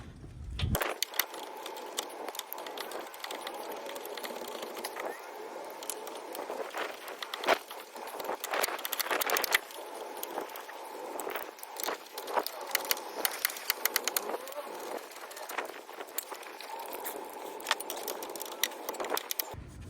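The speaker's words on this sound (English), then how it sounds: "now to remove these three bolts, you need a 13mm socket and a swivel" A socket wrench with a 13mm socket and swivel works loose the wheel hub bolts on a Chevy Equinox/GMC Terrain front hub, giving quiet, close bursts of metallic clicking and ratcheting with no talk.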